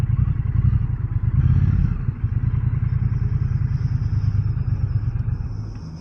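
A 2025 Triumph Bonneville T120 Elvis Presley Edition motorcycle on the road, its engine a steady, loud, close rumble that holds evenly throughout, with wind noise on top and a slight easing toward the end.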